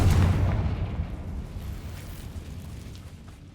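A Confringo explosion spell in the video game Hogwarts Legacy, a heavy booming burst that starts loud and fades into a long low rumble, with no talking.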